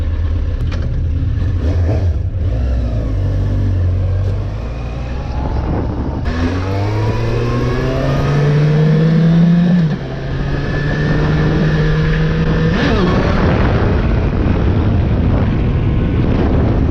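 Yamaha R1 sport motorcycle engine revving loud and close, with rising and falling pitch sweeps as the throttle climbs through the gears, a steady roar filling the whole stretch with no talking.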